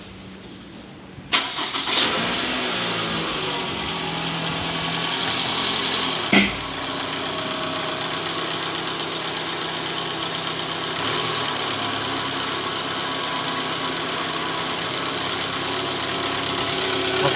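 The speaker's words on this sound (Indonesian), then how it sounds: "Sekarang kita coba dulu hidupin mesin untuk dengerin suaranya" A car engine with a worn, loose balancer shaft cranks and catches after a quiet start, then settles into a steady, rough idle with a persistent vibrating hum, close and alone with no talking.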